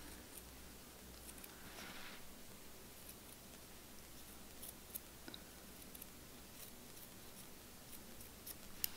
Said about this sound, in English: just gonna snip that across